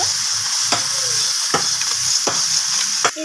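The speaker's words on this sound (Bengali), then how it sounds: "তো আমি টমেটোর সাথে পেঁয়াজ বাটাটাকে একটু ভাজা করে নিলাম নাড়াচাড়া করে" Onion paste with tomato sizzles steadily in hot oil, loud and close. A spoon scrapes and stirs the pan in sharp strokes about once a second, with no talking.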